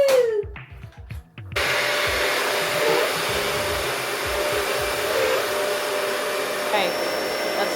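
Dyson vacuum cleaner switching on after being plugged in, a loud steady high whine and roar starting abruptly after a few faint handling sounds and holding constant, close by.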